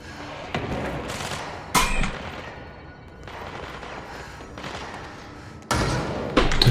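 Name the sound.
gunshots in video game Control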